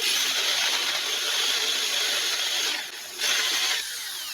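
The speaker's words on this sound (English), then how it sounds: "I'm actually running a hole saw through an existing hole" A hole saw mounted on a magnetic base drill bores through an existing hole with no pilot bit, a steady loud grinding whine that dips briefly near the end before resuming at a slightly lower level.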